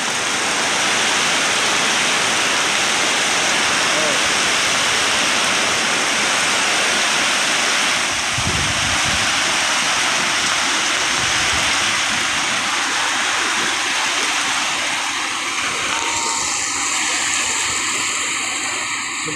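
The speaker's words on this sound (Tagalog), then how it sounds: "Lakas ng ulan dito sa Marikina River." Heavy rain and strong wind at the Marikina River make a dense, unbroken roar of pouring water, loud and steady throughout, with occasional deeper gusts rumbling underneath.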